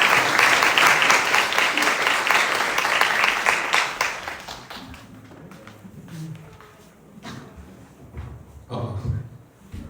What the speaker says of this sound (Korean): 박수로 한번 환영하십시오.